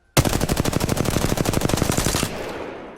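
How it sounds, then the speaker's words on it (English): A gun in a video game empties a full magazine in one long burst of rapid, evenly spaced automatic shots, loud and close, ending with a short ringing tail as the firing stops. "the first thing you want to do with the gun you want to practice with is shoot the full clip"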